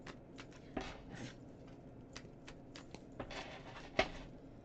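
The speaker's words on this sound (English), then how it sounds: "I'm just shuffling the cards today." Tarot cards are shuffled by hand, giving soft riffling and sharp snapping flicks at an irregular pace, close and moderately quiet over a faint background hiss.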